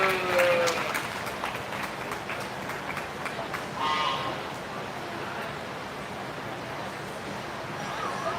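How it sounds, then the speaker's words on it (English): An audience claps for a young exhibitor with a breeding ewe at a 4-H and FFA sheep show at the Lancaster County fair. The applause is moderate and broad, fading within a few seconds into ring ambience with a voice over a loudspeaker. "Give her a round of applause."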